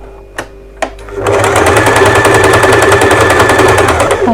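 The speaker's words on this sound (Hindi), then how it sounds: "अब इसी तरीके से हम इस फैब्रिक पर भी अपनी सिलाई चला लेंगे" A sewing machine runs a steady stitch through blouse fabric, its rapid needle rhythm loud and close after two brief knocks at the start.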